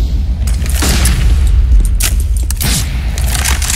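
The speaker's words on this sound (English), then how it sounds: "flashbang." A flashbang grenade goes off in a video game match, a booming blast with hissing crackle, followed by several more sharp bursts and rumbling impacts over a dense game soundscape.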